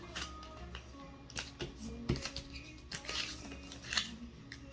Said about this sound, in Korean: 이 X자 선을 맞춰서 세로로 접습니다.